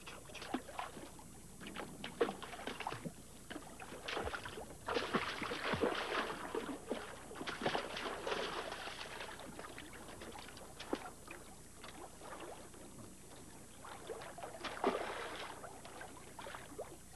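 A small rental boat out on a glacier lake, with steady water sloshing and lapping against the hull and soft hiss and creak throughout, rising in several louder swells, with no voices.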